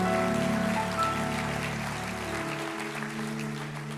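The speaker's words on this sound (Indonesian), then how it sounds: "berikan tepuk tangan buat Tuhan" Congregation applause during a church sermon, a dense patter of clapping hands under sustained keyboard chords, fairly loud and even before thinning slightly.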